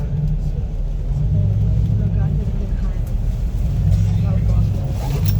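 Car driving and turning on a road near a mosque in Makkah, a steady low engine and road rumble running throughout, with a voice talking over it.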